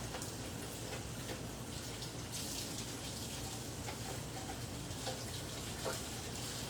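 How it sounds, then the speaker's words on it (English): Items being rinsed under running tap water in a kitchen, a steady hiss of flowing water with faint splashes, moderately quiet and continuous, no talking. "I'm just gonna rinse this. Rinse everything before we use it."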